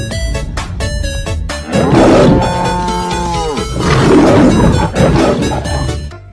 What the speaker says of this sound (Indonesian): Wow, kita menemukan sepasang harimau Sumatera.